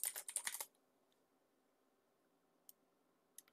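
A computer keyboard clatters in a quick burst of typing for under a second, then falls quiet apart from two isolated, crisp key clicks later on, close and fairly soft.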